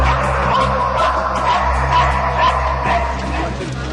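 British police sniffer dogs barking and yipping in repeated short bursts under a steady, loud voice talking over a low background hum.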